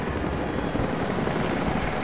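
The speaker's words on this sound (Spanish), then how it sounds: "Jacob, los helicópteros se dirigen a tu posición." Helicopters in the video game Rise of the Tomb Raider approach with a dense, steady roar of rotor and engine noise that holds at a constant loud level, with no voices.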